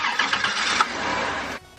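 A 3.8-liter van engine, its exhaust freshly patched with muffler cement, cranks and catches with a loud, close churning roar that settles toward idle before cutting down sharply at the end.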